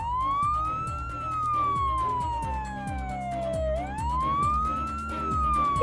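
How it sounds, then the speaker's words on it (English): A fire engine's wailing siren rises and falls in long sweeps, loud and steady, over a rumbling engine with rhythmic low thumps beneath. "Trevor Evans can hear a siren in the distance."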